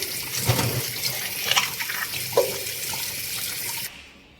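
Old clay oil lamps are scrubbed clean under a running tap, with a steady stream of water, splashes and a few light knocks of handling. The flow cuts off abruptly just before the end.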